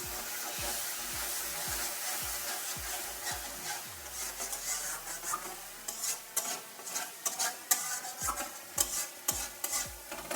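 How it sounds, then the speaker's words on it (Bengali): Spice masala with tomato, salt and a little water stirred and sautéed in a pan for a Bengali small-fish curry: repeated scraping strokes of a spoon against the pan over a steady sizzle, growing louder and more rhythmic toward the end. "ভালো করে কষিয়ে নিচ্ছি।"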